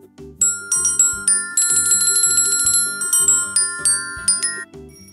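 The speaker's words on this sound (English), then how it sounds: "Where is the bell?" A bright metallic bell rings in quick repeated strikes, a busy run of clear ringing tones that sustain and overlap at a fairly loud, close level, with no voices.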